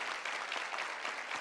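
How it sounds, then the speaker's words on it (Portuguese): A conference audience claps in a dense, steady burst of applause at moderate distance, with no other sound standing out above it. "Uma salva de palmas"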